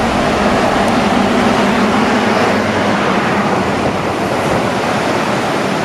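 The South Yuba River rushes by as a loud, continuous broadband roar of flowing water, steady and close, with no talk.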